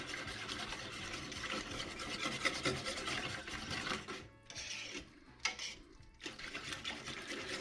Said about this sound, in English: We're going to whisk it in thoroughly.